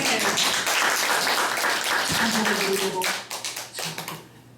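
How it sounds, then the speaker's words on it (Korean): Church congregation clapping together during a worship service at a small church in Seoul, a dense, loud wash of applause that thins into scattered claps near the end, with a voice heard through it. "하나님께 영광의 박수 올립니다"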